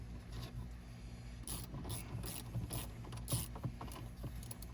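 Quiet ratcheting clicks come from a hand tool backing out an 8mm bolt on a Ford F150 rear seat panel, a string of short metallic bursts over a faint hum.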